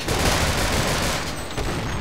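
A weapon in Half-Life Sven Co-op unloads a dense, continuous barrage of loud gunfire, close and unbroken for two seconds with no talking.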